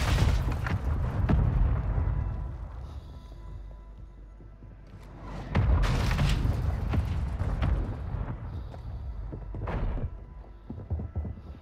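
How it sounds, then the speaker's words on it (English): Mortar rounds strike in a military shooter game, with several heavy booming impacts spaced a few seconds apart, each a deep thud with a rumbling tail, among lighter background clatter. "Mortar strike on the way."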